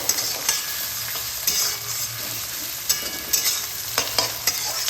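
Three chopped medium tomatoes frying in spiced oil for a Bengali Bombay duck curry, a constant close sizzle broken by scraping stirs and spoon knocks against the pan.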